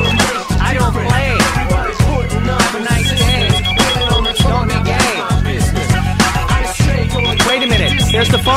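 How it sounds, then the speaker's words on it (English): A telephone rings inside a hip-hop track from the Outlaw Golf 2 soundtrack, its repeating bell-like trills sitting beneath loud, dense music with a steady beat. "Wait a minute, there's the phone."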